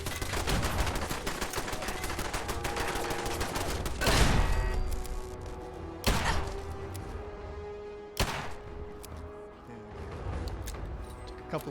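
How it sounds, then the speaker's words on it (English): Repeated gunfire in the video game Fallout 4, with a rapid volley in the first four seconds followed by heavier single shots at about 4, 6 and 8 seconds, each trailing off under game background sound. "Took a couple of pot shots at that one."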